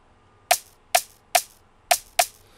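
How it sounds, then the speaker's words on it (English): Five sharp metallic clank hits repeat at an even, beat-like pace in an Afrobeats instrumental, each crisp and close with a quick decay. "I added another one, a clank, to make it sound close to what I was hearing."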